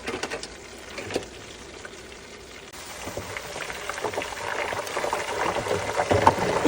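Food deep frying in oil in a deep fryer, a steady bubbling crackle like light rain that grows louder and denser toward the end, heard close with no talk.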